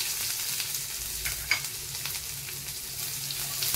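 Chopped onion fries in hot oil with cumin seeds in a pan, a constant close sizzle broken by a short stirring clatter partway through.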